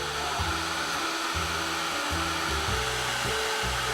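A hair dryer blows steadily on a mixed media art page to dry wet paint, a continuous close, loud whooshing hum with slight pitch wobble as it is moved around, with no talking.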